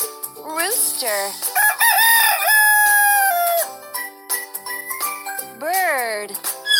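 A cartoon rooster crows a long cock-a-doodle-doo in a children's educational animal puzzle game, bright and close, with a short chime and a spoken word from the game around it.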